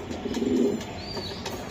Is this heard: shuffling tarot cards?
no